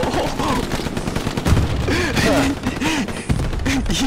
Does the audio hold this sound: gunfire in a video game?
yes